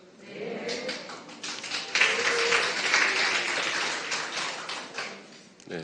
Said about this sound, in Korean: 여기서 박수를 치시면 타 회사에서 우리가 나쁜 회사인 줄 알아요